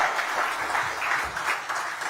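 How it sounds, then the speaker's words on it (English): An audience at a tech conference event claps steadily in a dense, continuous wash of applause, fairly loud with no talk over it. "People will go mad clapping for you"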